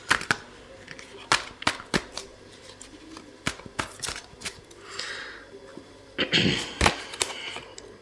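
Angel guidance tarot cards being shuffled and drawn by hand, a run of crisp snapping card clicks at an uneven rhythm, close and fairly loud, with short riffling flurries in between.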